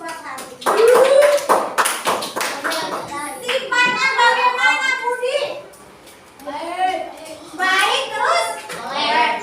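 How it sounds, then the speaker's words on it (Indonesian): Children in a classroom clap for a classmate, a burst of close hand claps mixed with kids' voices and a teacher speaking over the noise. "Tepuk tangan buat Hadi"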